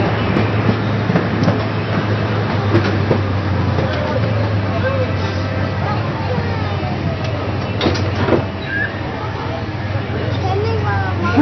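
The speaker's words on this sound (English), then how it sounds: "Please remain seated until the train has come to a complete stop." An amusement park train at Lake Winnie rumbling low and steady as it slows to a halt, with a continuous mechanical drone and a clank or two, while people talk over it.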